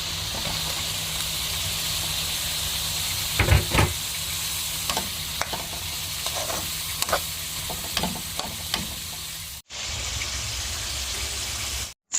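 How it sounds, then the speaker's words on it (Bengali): Crab stir-frying in a pan gives a steady, loud sizzle and hiss throughout, with scattered scraping clicks from stirring, then breaks off briefly before the sizzle resumes and cuts out. "ফাইনালি এই হলো আমাদের কাঁকড়া রান্না"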